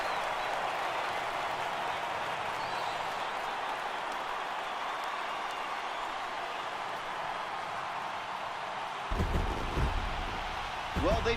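Video-game stadium crowd in MLB The Show at a World Series clinch, Atlanta Braves home crowd: a sustained roaring cheer and applause at steady volume, ending with a few thumps and bursts near the end.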